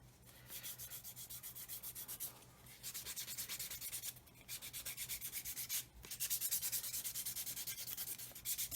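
Close, rhythmic rubbing strokes of sanding on a 1/24 scale Airfix Hellcat plastic model kit, coming in quick bursts separated by short pauses, soft but clear with no talking.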